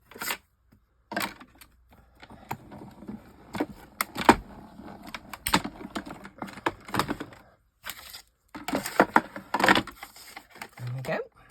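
Paper is cut out by hand, giving intermittent crisp snips and rustles that come in irregular clusters with short quiet gaps between them.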